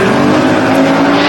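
A 1987 Chevrolet Silverado pickup truck drag racing, a loud, steady engine roar held close throughout a brief burst.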